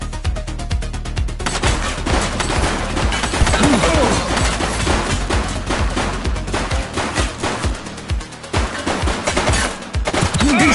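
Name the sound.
gunfire in the video game The Precinct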